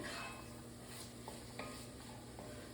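Onion, celery and carrot mirepoix cooking in a pan over medium-high heat, giving a steady low sizzle with a few soft stirring clicks and scrapes, close and fairly quiet, no talking.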